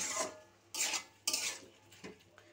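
Mustard paste is stirred into ash gourd in a pot, giving three or four distinct scraping, clinking strokes of a utensil against the pot, fairly quiet and close, with short pauses between.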